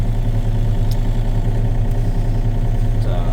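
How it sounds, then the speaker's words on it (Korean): A track-work vehicle's engine idles steadily just after starting while warming up, a loud, constant low rumble with a faint clatter and no talking. "한 1분 정도는 그냥 움직이지 않은 상태에서 시동을 걸어 주시고"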